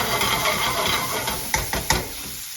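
Onion cooking in a pan for a restaurant-style chicken tikka balti, giving a steady close hiss and sizzle with a couple of sharp knocks near the end.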